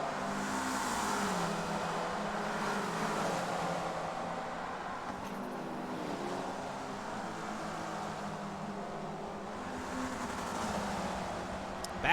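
A race car's 2.0 Ecotech Turbo inline-four drones steadily through a tunnel and archway in Forza, its sustained engine note reverberating off the walls, with a slight rise and fall in pitch as it holds speed.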